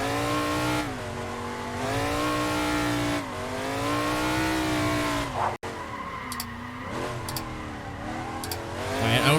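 A car in a Formula Drift Seattle racing sim slides through a handbrake drift, engine droning at steady revs with rising and falling pitch and a brief cut, followed by short tire squeals, loud and up close.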